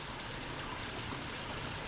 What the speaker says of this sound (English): the little creek that we have here